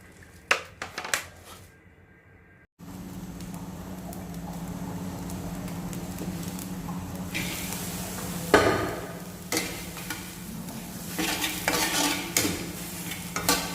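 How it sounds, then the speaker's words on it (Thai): Cicadas dry-roasted with pandan leaves in a pan: a few sharp clinks of a utensil, a short pause, then a continuous close sizzle and crackle with repeated stirring scrapes and taps, no talking. "ขัวจักจันกันครับผม"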